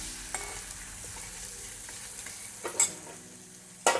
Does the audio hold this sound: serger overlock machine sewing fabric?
no